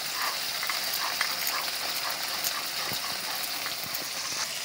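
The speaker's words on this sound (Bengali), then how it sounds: "জিরাটা মিহি করে বাটতে হবে।" Cumin seeds ground into a fine paste by hand, a continuous gritty rubbing and scraping texture with small clicks, fairly quiet and steady, without speech.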